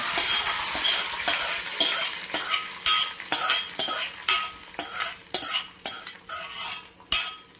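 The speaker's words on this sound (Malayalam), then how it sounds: "ഇനി നമ്മൾ കൂട്ടാനിലേക്ക് വറുത്തിട്ടത് ഒഴിക്കണം" Fried tempering is poured and stirred into a pumpkin tamarind curry, giving short sizzling bursts and repeated scraping strokes of a spoon against the pot in a steady rhythm.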